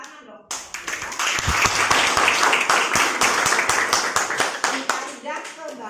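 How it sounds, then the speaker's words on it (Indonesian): A class of students claps together for a classmate during an Indonesian language lesson, a dense burst of many hands that starts abruptly, holds steady for about four seconds, then thins out with voices. "tepuk tangan dong"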